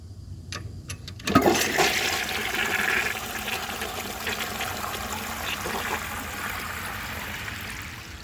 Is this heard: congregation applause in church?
no